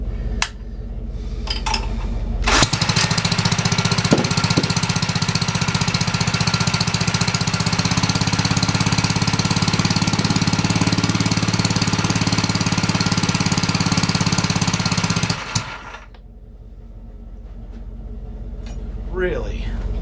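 A Hollingsworth gasoline air compressor engine with a new muffler starts abruptly and runs loud and steady with a rapid chugging drone for about thirteen seconds, then cuts off, leaving a quieter hum and faint background sounds.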